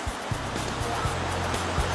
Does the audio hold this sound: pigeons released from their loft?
no